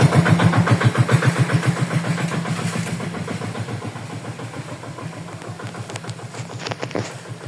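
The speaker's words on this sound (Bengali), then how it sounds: "এই গাড়িটা কেমন শব্দ দেয় দেখবেন, ঠিক আছে?" A bhotbhoti, a crude locally built motor vehicle, chugs loudly nearby with a rapid, steady, knocking engine rhythm that eases slightly as it runs on, with no talk over it.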